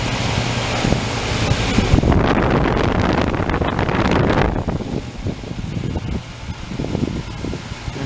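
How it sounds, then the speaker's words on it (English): A new Goodman heat pump outdoor unit running just after a cold start, a loud whooshing fan roar with broadband rush that eases partway through into a steadier, quieter hum with faint wind buffeting. "The Goodman unit is running. Just did a cold start on it."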